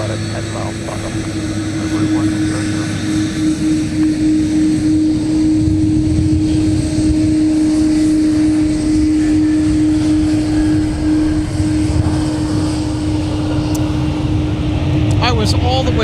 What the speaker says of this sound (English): I was all the way zoomed out when that aircraft was right next to us, 300 feet away.